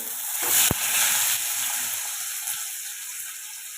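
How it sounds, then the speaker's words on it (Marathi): Green coriander gravy for a quick paneer bhaji poured straight into hot oil in a thin kadhai, bursting into a loud, steady sizzling hiss with a sharp crackle early on, then settling into constant frying noise with no talk. "आता ही ग्रेव्ही ना डायरेक्ट तेलामध्ये टाकून घेते"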